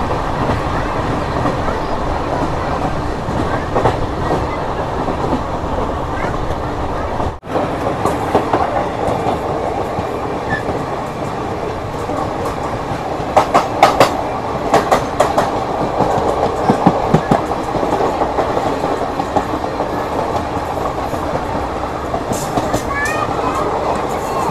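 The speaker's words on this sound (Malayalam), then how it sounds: "ചെന്നൈ എക്സ്പ്രസ് ഗുരുവായൂരിലേക്ക് പോകുന്ന എക്സ്പ്രസ് ഇപ്പം എത്തും." The Chennai–Guruvayur Express rumbles past with steady rail noise and bursts of clickety-clack from the wheels, loud and close, with brief sharper rattles midway and people talking faintly underneath.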